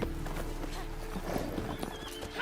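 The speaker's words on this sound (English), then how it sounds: "That's a nice horse there." Horse hooves clip-clop steadily in The Witcher 3: Wild Hunt – Blood and Wine, with a neigh breaking through near the end, the sounds close and moderately loud over a faint game ambience.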